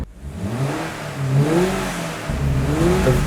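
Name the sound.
car engine revving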